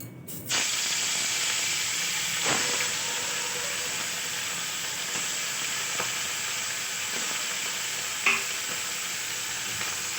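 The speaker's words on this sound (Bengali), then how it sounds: "তারপরে মাছগুলো ভেজে নেবো" Small carp-type fish frying in oil in a wok over a lowered gas flame, a loud continuous sizzle with occasional clatters and scrapes of stirring, no voices.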